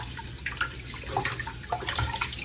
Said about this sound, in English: I use a lot of water to wash rice